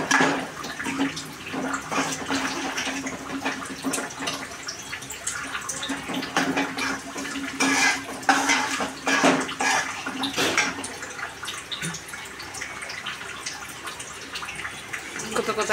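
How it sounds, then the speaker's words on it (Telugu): Water is poured into a pan of Andhra-style fish curry masala as it cooks, a steady splashing and bubbling wash with a low hum beneath and no talk. "కొద్దిగా వాటర్ వేసుకోవాలి."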